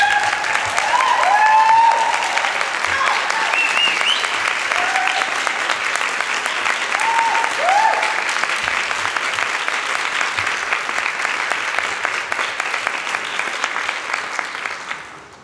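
Graduates at a Royal Conservatoire of Scotland autumn 2019 ceremony applauding their audience, a sustained, dense hall of clapping that fills the whole stretch, with a few faint voices and cheers rising over it early on, then slowly tapering.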